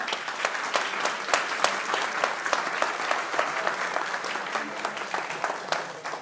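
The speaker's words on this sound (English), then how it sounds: "can we have a round of applause for our panel?" An audience at a high-level panel event on raw materials and security applauds steadily for several seconds, a dense even patter of many hands clapping at moderate distance.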